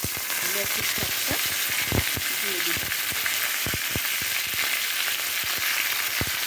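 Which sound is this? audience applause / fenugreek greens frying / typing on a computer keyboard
fenugreek greens frying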